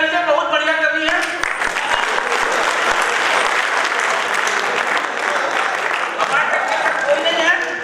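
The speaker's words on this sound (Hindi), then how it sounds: "ताली बजा दीजिए, बहुत बढ़िया कवि है" Audience applause at a Hindi comic poetry gathering (hasya kavi sammelan), a dense, steady clapping that fills the whole stretch, fairly loud and close, with a voice briefly heard at the start before the clapping swells.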